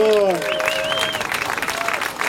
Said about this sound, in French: Formidable, mesdames et messieurs, vos applaudissements